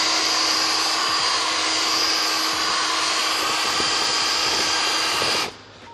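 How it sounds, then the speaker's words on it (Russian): A rotary cutter mills out damaged plastic on a car bumper, whining loud and steady at high pitch close by, then cutting off abruptly near the end; no one speaks. "это желательно тоже высверлить или выбрать фрезой"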